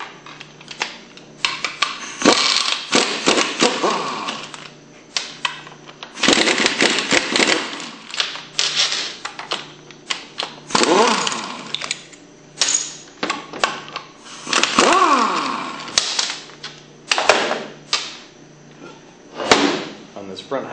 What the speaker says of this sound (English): We'll start by removing the front housing with the 9/16 socket.